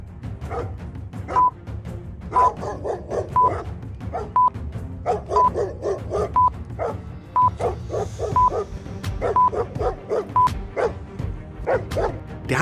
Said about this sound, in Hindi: ब्रेवो के पीछे बहुत सारी जंगली कुत्ते लगे हुए थे